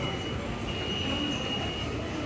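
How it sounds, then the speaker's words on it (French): A subway train in Busan, South Korea rumbles steadily from inside, a loud continuous roar with a faint high whine over it and no clear breaks. "On a pris le métro pour arriver jusqu'à notre auberge."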